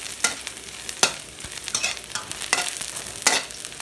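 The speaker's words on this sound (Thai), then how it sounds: "ทอดเคี่ยวเคี่ยวน้ำมันก่อนเคี่ยวให้หอม" Oil crackles in a hot pan as something fries, with irregular popping spits and sharp scraping stirs over a low sizzle, close by and without speech.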